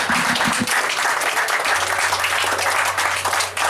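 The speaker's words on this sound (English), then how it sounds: "Another big round of applause for Gerald." Audience applause at a master gardener's forum, a steady wash of clapping from a seated crowd lasting a few seconds, with a low hum underneath.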